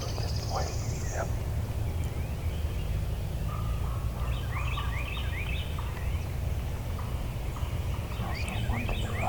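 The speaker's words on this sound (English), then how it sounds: "Sounds like a gobbler, Gobbler." A wild turkey gobbler gobbles in the distance on public land, with brief rattling calls rising over constant low wind or background rumble, faint and outdoors.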